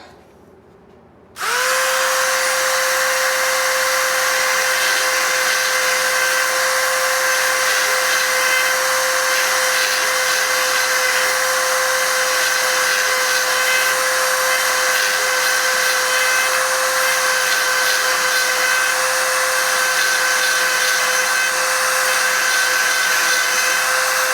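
A power tool sharpening a bandsaw blade starts abruptly and then runs loud and steady, holding a constant high whine for the rest of the clip with no talking.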